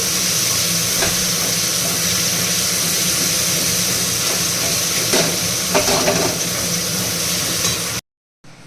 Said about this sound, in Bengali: এখানে মাছ করব বলে মশলা কষাচ্ছি